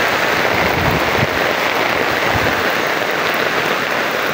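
Steady rain falls in Biliran, a dense, even hiss of drops with no breaks, close and moderately loud, with no voices over it.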